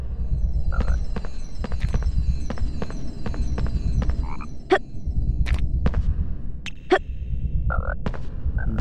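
Chocolate frog croaking in the Harry Potter PlayStation game, a few short croaks spaced apart among sharp clicks and taps over a low rumbling background, with no talking.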